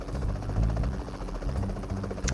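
Helicopter in the PUBG Mobile video game, a steady rotor drone with rhythmic low thumping that runs through the whole moment, fairly loud and with no speech over it.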